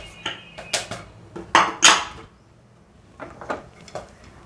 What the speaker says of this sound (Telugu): ఇలా ప్రిపేర్ అయిన పాప్కార్న్ని మనము ఒక పెద్ద పళ్ళెంలోకి కానీ పెద్ద గిన్నెలోకి కానీ తీసుకుని